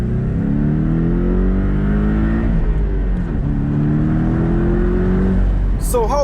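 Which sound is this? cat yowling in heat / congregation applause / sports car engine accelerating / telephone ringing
sports car engine accelerating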